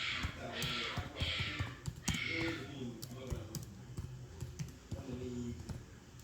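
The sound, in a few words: typing on a computer keyboard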